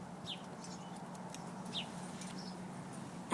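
Three-week-old Muscovy ducklings in a pen in Phoenix give faint high peeps and chirps scattered over a steady low background hum.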